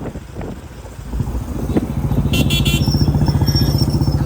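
A Royal Enfield Bullet motorcycle engine thumps in a steady, loud rhythmic pulse as the bike rides along, building after a quieter start with some wind noise.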